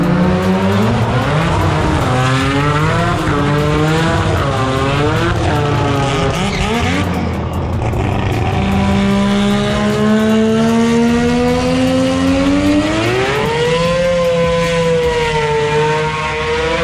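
Pro Mod drag race cars, including a Camaro, roaring down the strip at Sydney Dragway, loud and continuous engine howl with rising and falling pitch as the cars launch and shift, close and dominant throughout.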